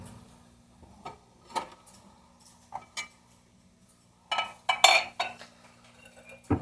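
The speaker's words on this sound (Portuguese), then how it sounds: "eu vou lavar essa louça" Dishes being washed at home, scattered clinks and clatters of plates and cutlery close by, irregular knocks with a busier cluster of clanks toward the end, no talking.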